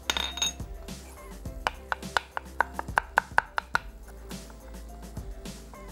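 Fresh desi garlic cloves sliced with a knife on a board in a home kitchen, a quick run of a dozen or so crisp close taps and clicks amid faint kitchen background.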